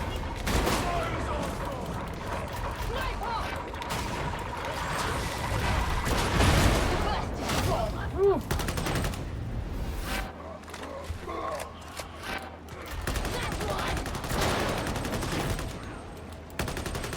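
Repeated gunfire bursts in the video game Warhammer 40,000: Darktide crackle through a busy combat mix, with voices speaking over the shooting at times.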